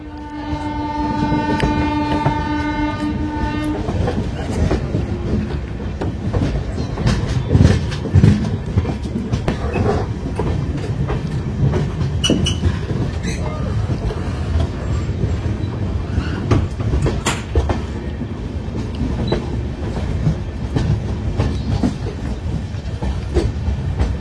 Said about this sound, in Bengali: কি সুন্দর ট্রেনটি অ্যাপ্রোচ করছে